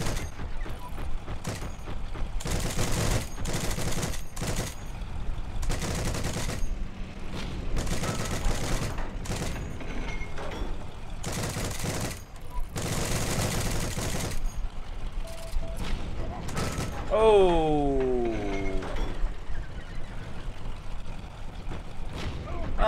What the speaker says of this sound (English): No idea what he's shooting at.